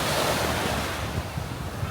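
Sea waves washing onto the shore at Kep, Cambodia, a loud continuous surf roar mixed with wind buffeting the microphone, with no voices.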